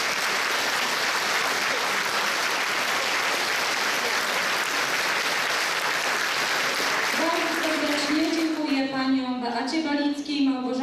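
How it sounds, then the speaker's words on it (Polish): Audience at a Christmas concert gives loud, sustained applause for young child performers, a dense clapping wash lasting several seconds before a voice begins speaking near the end. "Wielkie brawa dla nich."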